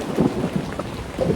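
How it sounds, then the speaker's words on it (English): Low, rolling thunder rumbles in two swells over steady rain hiss heard from a car-camping setup with an SUV gazebo tent, no voices present. "But yeah, it's thundering,"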